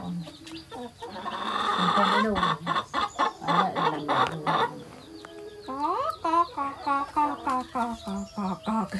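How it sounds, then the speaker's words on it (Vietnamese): Rooster and hens on a farm cluck repeatedly and loudly up close, a dense burst of overlapping clucks giving way to a rhythmic series of calls, with some voices mixed in. "Con gà trống nó về đấy, mấy con gà mái lại bu lại."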